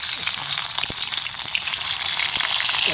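Small sepat rice-field fish dropped into hot oil, giving a steady bright sizzle with scattered crackles and pops throughout, close and fairly loud, no talk.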